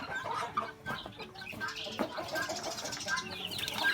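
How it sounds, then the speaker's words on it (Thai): Small chickens clucking and cheeping in a busy cluster, with someone talking over them now and then. "ตามาชมไก่เล็กครับ"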